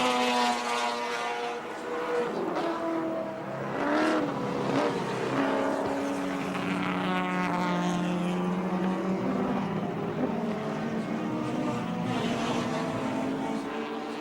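Touring race cars from the 1984 Australian Touring Car Championship lap the 2.4 km Wanneroo circuit, a steady loud engine roar with rising and falling pitch as cars pass, heard under distant commentary.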